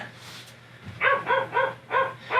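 A dog indoors barks five times in a quick, fairly close series over a low background hum, with no talking.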